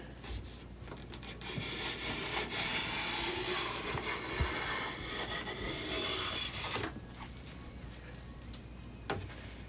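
A Veritas No. 1 bevel-up bench plane takes a shaving from a wooden board, giving a steady, close, breathy rasping hiss for several seconds that stops abruptly near the end, with faint clicks afterward.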